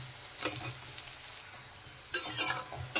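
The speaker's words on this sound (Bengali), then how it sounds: "সেইগুলো আমি আলুর সাথে ভেজে নিচ্ছি" Coconut and potato frying together in oil for chicken gugni, with soft steady sizzling and a few short bursts of stirring scrapes against the pan near the end.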